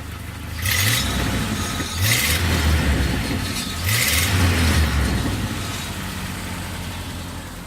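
A 1997 Jeep Wrangler with the 2.5 engine, 251,000 miles on it, and a Flowmaster Super 10 exhaust, revving close up in three short blips over a steady low idle.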